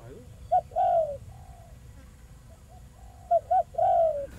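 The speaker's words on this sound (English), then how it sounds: "appreciating the melodious sounds of the spotted doves" Spotted doves coo in two separate bursts, each a short series of soft, rounded, mellow calls close by, with a quiet pause between them and no talking.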